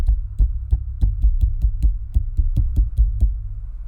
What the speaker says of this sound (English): That's the sound of me hitting my microphone on accident and then on purpose.